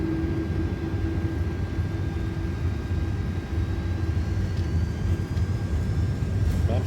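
An Airbus A330 airliner's engines spool up for takeoff in a flight simulator, giving a steady, even roar with a faint whine running through it.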